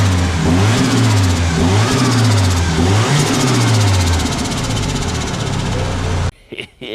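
Car engine in a boosted Cosworth build on a dyno, revving hard with steady rise-and-fall pitch over several seconds, loud and close, then cutting off abruptly into a short lull.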